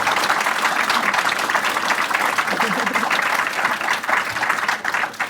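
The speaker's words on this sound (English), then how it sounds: "Big round of applause for them, please." An audience at a literary festival author panel breaks into sustained applause, a dense, continuous wash of many hands clapping that holds steady throughout.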